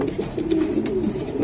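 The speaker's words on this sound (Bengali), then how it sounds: "এটা একদম হোয়াইট রেসার হোয়াইট কবুতর রেসারের বাচ্চা" A white racer pigeon squab coos steadily in low, throaty murmurs, close by and continuous, with faint background noise and brief higher sounds.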